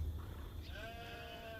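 A sheep bleats once in the video game Age of Empires IV, a short wavering call rising over low battle ambience.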